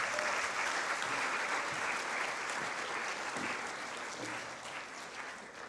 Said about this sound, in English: Let's give her another round of applause again